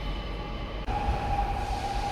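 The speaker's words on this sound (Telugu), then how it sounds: "ట్రైన్ వస్తుంది చూడండి" A train pulls into a station near Sabadell in Spain, a low rumbling roll with a sustained tonal whine rising in after a brief dip, heard close and steady without speech.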